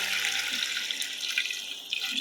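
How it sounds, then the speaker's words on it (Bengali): Hot water pours into a pan of fried rice while beef biryani is being made. It makes a steady, close rushing and bubbling splash that keeps up throughout, alone. "এবার দিয়ে দিচ্ছি পরিমাণ মতো গরম পানি"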